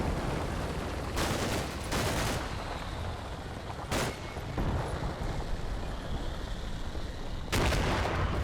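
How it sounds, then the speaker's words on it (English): Small arms and M60 machine gun fire in a Cold War tactical war game, with sharp broadband bursts around 1, 2, 4 and 7.5 seconds over a constant rumbling battle backdrop. "some small arms fire from HQ units on the advancing American infantry"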